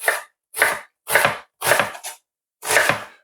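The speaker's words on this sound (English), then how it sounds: "I'll be dicing them" A knife dices an onion for a homemade vegetable soup. Five crisp, close chopping strikes land in an uneven rhythm on a cutting board, with silence between them.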